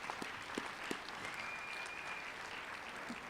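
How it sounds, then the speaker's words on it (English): Faint, distant applause from the audience at the Adams State University undergraduate commencement ceremony 2025, a continuous wash of clapping with a few sharper individual claps near the start. "I think that deserves a round of applause"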